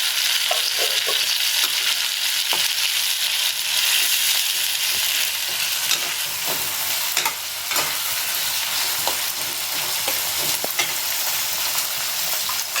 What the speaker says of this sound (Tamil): மிளகு இஞ்சி பூண்டு பேஸ்ட் கொஞ்சம் வதங்கணும்